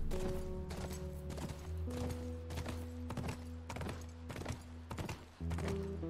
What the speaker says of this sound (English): You're on a horse.